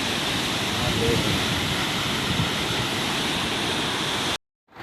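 Water from the Maneri Bhali hydro project's turbine outlet roars out in a steady, loud, dense rush, unbroken like a waterfall until it cuts off abruptly near the end.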